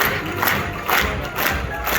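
An audience at a live cooking competition event in the Coachella Valley claps and cheers, with a steady crowd roar and swelling bursts of applause.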